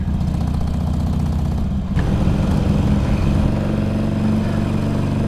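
A Harley-Davidson 883 Sportster riding along in third gear at about 30 mph, its engine a loud, steady low rumble with a brief dip and then a continued throaty drone, no talk.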